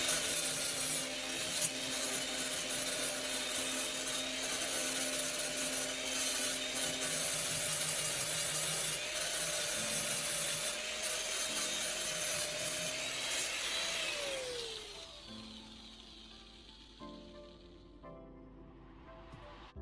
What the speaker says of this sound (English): After welding the handle, I'm giving the weld spots a quick clean.